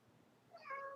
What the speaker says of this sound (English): I don't know if you can hear Lucy meowing in the background